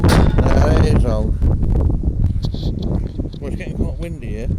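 Gusty wind buffets the microphone outdoors at Wicksteed Park, a steady low roar and rumble running through the whole stretch while voices talk underneath.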